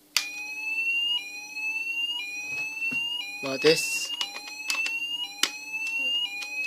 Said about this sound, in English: mini fire alarm test